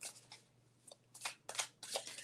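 A new Lost Souls Tarot deck of crisp, fairly thin cards is shuffled up close in several quick riffling bursts separated by short pauses, with no talking.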